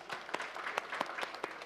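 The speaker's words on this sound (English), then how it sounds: "Round of applause again." A round of applause from the audience at a labour law seminar, a steady patter of many hands clapping at moderate volume with no voices over it.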